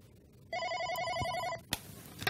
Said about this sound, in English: Answering a call is as easy as picking up the handset when the phone is ringing.